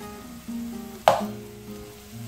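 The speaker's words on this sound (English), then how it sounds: "And then fry it along with the onion in the pan." Mushrooms dropped into a pan to fry with onions, a sudden sizzling burst that flares loudly then settles into a steady soft crackle, with a faint tonal hum underneath.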